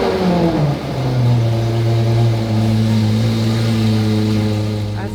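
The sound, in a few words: cold start of limited edition SUV engine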